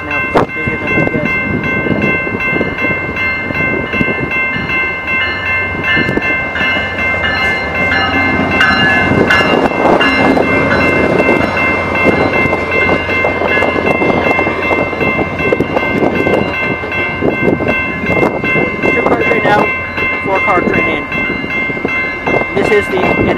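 A four-car Rail Runner commuter train rumbles along the rails close by, with a steady mechanical roar, tonal whine and clicking wheels sustained throughout, and a voice talking over it.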